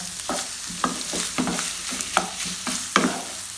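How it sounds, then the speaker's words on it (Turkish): Onions sautéing in a pan for baked içli köfte, a steady sizzle broken by regular scraping stirs of the utensil, close and moderately loud with no talk. "Soğanlarımızla kavurmaya devam ediyorum."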